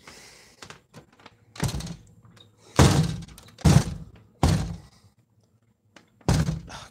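A screen door bangs shut with a series of hollow wooden thunks and rattles, five or six distinct knocks spaced irregularly over several seconds, close by, with no talk.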